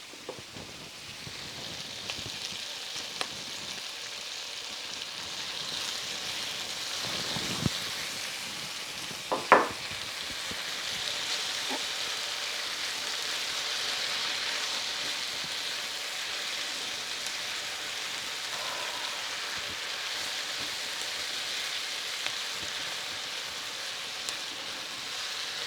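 Garlic frying with cooked onions in a pan gives a continuous, even sizzle that holds steady throughout, with occasional faint clinks and scrapes of stirring and no voice.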